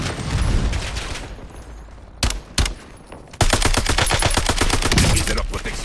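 Rapid automatic gunfire in the Warzone video game, loud and sustained with dense bursts, a brief pause with a few isolated shots, then another long continuous volley.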